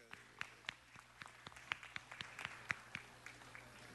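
A small audience clapping at a city council meeting, scattered individual hand claps in an uneven rhythm, quiet and somewhat distant with a faint low hum underneath.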